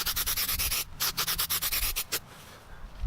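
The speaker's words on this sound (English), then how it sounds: "I'm going to sand that now" A rust repair spot on metal is sanded by hand in quick, rhythmic back-and-forth rasping strokes, close and loud, stopping after a couple of seconds.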